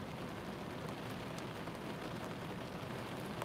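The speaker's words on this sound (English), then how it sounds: "it's raining" Steady rain falls outside a parked car, a dense even patter on the roof and windows that continues unbroken and fairly quiet throughout.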